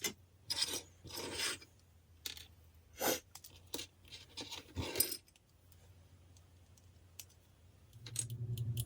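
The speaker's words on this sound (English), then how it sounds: "So we're going to get started cutting all this out and cleaning it up." Ford Torino model kit parts from the Starsky & Hutch car being cut free and cleaned up, with a series of short rasping filing and scraping strokes in bursts separated by quiet pauses, close and fairly faint.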